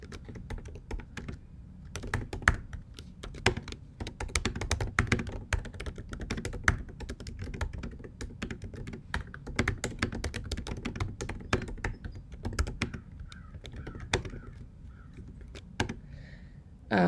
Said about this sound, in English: we're just going to type up